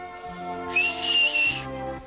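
A girl whistles a short, steady high note with a slight rise, close by and breathy with air hiss, while low background music plays and no one speaks.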